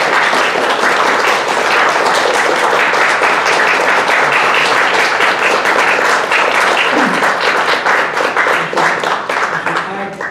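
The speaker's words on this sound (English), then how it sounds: "Let's give him applause, please." Sustained audience applause fills a Kristallnacht commemoration event, steady, loud and close, with dense clapping holding for about ten seconds before easing slightly at the end.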